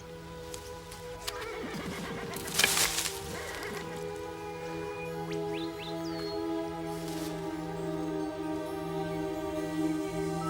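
A horse whinnies and neighs with a few hoof clip-clops, fairly faint and distant behind a steady low tonal hum with soft musical underscore.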